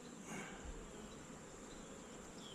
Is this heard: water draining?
no